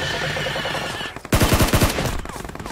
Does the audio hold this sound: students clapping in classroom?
no